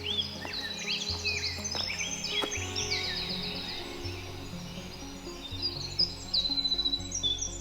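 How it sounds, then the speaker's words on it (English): Many birds sing and chirp in a thick forest canopy in the southeastern United States, overlapping high calls over a steady insect drone, with a rhythmic chirping burst near the end. "Flocks of birds sing in the thick canopy"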